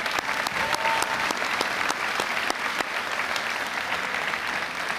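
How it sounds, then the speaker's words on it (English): Applause at a high school graduation ceremony honoring alumni members, a full crowd clapping steadily, with a few sharper nearby claps early on before it settles into an even roar. "Can we please give a round of applause for these members?"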